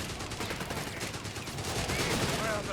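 Automatic gunfire in the Company of Heroes 3 strategy game during a Wehrmacht versus British match, a dense continuous rattle of shots blended with battlefield noise, steady and fairly loud, no clear speech.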